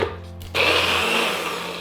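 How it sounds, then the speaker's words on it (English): A blender grinds baked, dry cornbread into fine crumbs for stuffed Thanksgiving meatballs. A low motor hum builds to a loud, steady whirring roar partway through, with no talk. "We're going to put that through the blender here in a second so that we can get it really fine."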